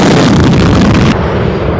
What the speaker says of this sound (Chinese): 这就是战斗机的轰鸣声